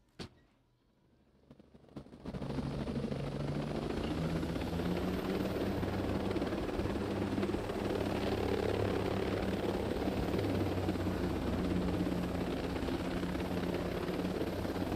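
A helicopter flies in Ghost Recon Breakpoint during a convoy chase. After a quiet start and a brief click, the rotor and engine roar rises sharply and holds as a loud, steady thrumming drone to the end.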